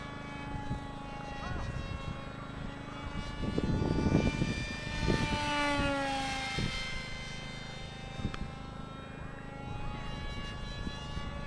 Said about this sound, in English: Gotta love the Eurofighter, man.